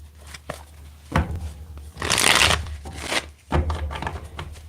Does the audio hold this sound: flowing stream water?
no